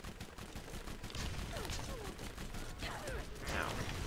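Gunfire in Borderlands co-op play, a rapid stream of shots and mechanical clatter, with faint voices now and then underneath.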